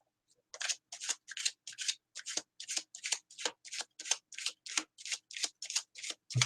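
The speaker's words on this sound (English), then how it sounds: "I'm going to keep shuffling. I want a really clean deck." Rapid riffle-shuffling of a tarot card deck, about fifteen crisp bursts in a steady rhythm, close and clear with no talking.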